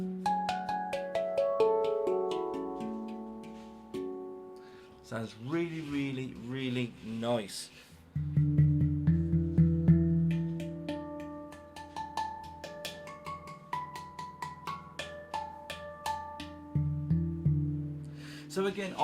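A Meridian handpan tuned to F Low Pygmy 19 rings out with struck metallic notes and sustained harmonic tones, mostly melodic patterns over a deep low note, with someone talking briefly over the playing.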